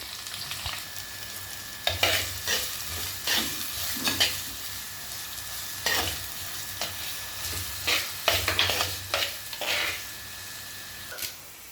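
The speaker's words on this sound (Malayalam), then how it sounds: "അതിലേക്ക് നമ്മൾ അരിഞ്ഞു വെച്ച ചെറുള്ളിയും ചേർത്തിട്ട് നന്നായി ബ്രൗൺ കളർ ആകുന്നത് വരെ നമ്മൾ വഴറ്റണം." Chopped shallots with green chilli, garlic and ginger sautéing in hot oil in a pan, a continuous close sizzle punctuated by repeated scraping stirs at irregular intervals, no voices.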